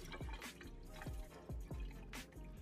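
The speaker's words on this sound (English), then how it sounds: "I then just drained out the water in the sink." Water drips and trickles in a sink as rice cakes for tteokbokki are drained, forming a quiet run of separate plopping drops with a faint liquid splash.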